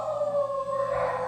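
Dogs howl in a long sustained wavering tone that rises and falls, loud and fairly close, with no talk over it.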